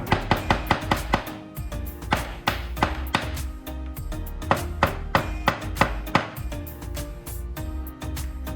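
A wood chisel fitted with a handle made from glue sticks, struck and driven into wood in a rapid series of sharp, close knocks and chops, mixed with quieter taps between them.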